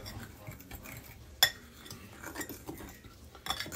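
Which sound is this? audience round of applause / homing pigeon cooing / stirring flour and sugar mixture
stirring flour and sugar mixture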